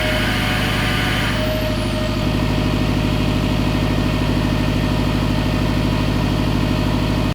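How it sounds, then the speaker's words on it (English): A Subaru STI engine, just back together after a power steering pump replacement, idles steadily at close range with a continuous low rumble that holds even from start to finish, with no one talking over it. "hook up the battery and get it started up"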